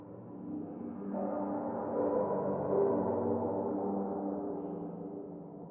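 Omnisphere synth preset Alley Stalker, a dark sustained pad with layered harmonic tones that swells in after a soft start and holds steadily at moderate level, alone without any talk.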